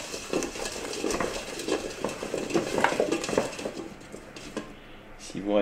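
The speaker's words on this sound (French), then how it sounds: "On mélange tout ça." Potatoes being mixed with olive oil and salt in a dish, a continuous soft clatter and scrape of the spoon against the dish, with a person talking at the end.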